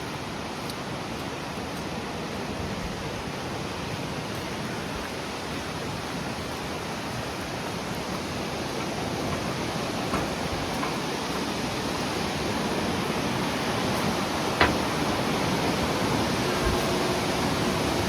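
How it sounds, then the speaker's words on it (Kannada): A strong river near Kalpeshwar temple in Uttarakhand's mountains rushes in a constant broad roar, steady and enveloping, with no voices over it. "ನೀರಿನ ಫ್ಲೋ ಸಾಕಷ್ಟು ಜೋರಿದೆ"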